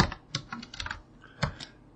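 Keys clatter on a computer keyboard as the .NET version command is typed in a Linux terminal, a quick irregular run of close, crisp clicks and taps with short pauses between bursts.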